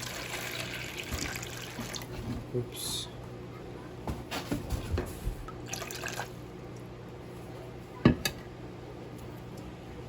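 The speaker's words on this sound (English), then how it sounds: "I got water. I'm gonna put half of it here." Water is poured from a container into another while treating a Miltonia orchid with fungicide indoors, heard as short splashy trickles and drips in bursts, fairly quiet and close, with a person speaking briefly.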